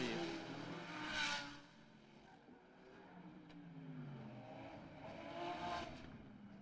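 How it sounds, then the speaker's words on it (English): GT race car engines at the Macau GT Cup street circuit, reverberating off surrounding buildings; two loud passes swell and fade with a lower rumble between them, no talk over it. "Just enjoying the noise of these cars."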